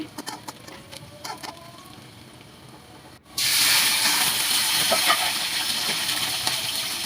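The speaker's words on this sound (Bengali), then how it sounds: "দিয়ে দিয়েছি পরিমাণ মতো তেল কুচি করে রাখা পেঁয়াজ তেজপাতা নাড়াচাড়া করে পেঁয়াজটা বাজে করে নিচ্ছি" Chopped onion and bay leaves hit hot oil in a wok with a sudden loud hiss, then sizzle steadily and closely, with faint stirring clinks and no talking.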